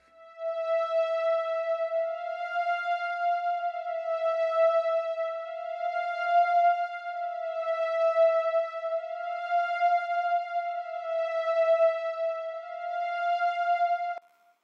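An orchestra strings patch from the Serum synth in Logic Pro X plays a clear sustained melody line of long, smooth held notes in a slow, even phrase for about fourteen seconds, with no talking.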